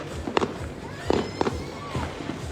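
New Year's Eve fireworks in Laguna, heard as several muffled pops and bangs in the distance, with people talking and a crowd murmuring throughout.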